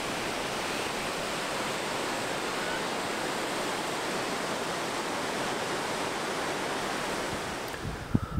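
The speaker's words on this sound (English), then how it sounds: "The wind has now become ridiculous" Strong wind roars in a dense, unbroken rush at a river lock, buffeting the microphone throughout, with a brief knock right at the end.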